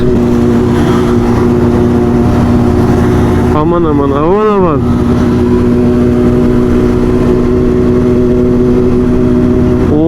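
A car engine with a modified exhaust revs up sharply in a brief rising-and-falling roar, heard over a steady engine drone and chatter nearby, in crowded Diyarbakır traffic.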